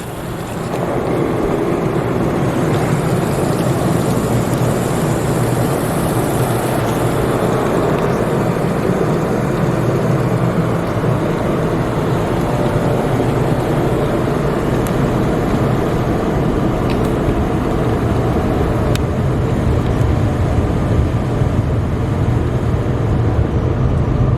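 Powerful blowers at the end of a tunnel car wash in Plano, Texas roar in a loud, steady, unbroken rush of air, with a conveyor carrying cars slowly through and no voices.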